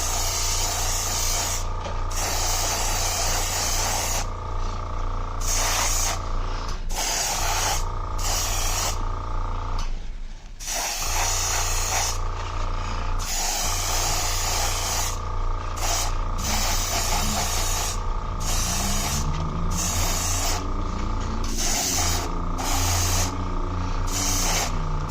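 Airbrush spraying another coat of paint onto a GMC Caballero model car, a loud close steady hiss broken by repeated short pauses between bursts.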